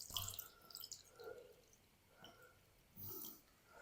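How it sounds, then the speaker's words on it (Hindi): Water is poured from a container over a bowl of freshly grated potatoes in a home kitchen, giving a few short splashing, dripping bursts that are close and fairly quiet. "अब हमने इसके अंदर शामिल करेंगे पानी।"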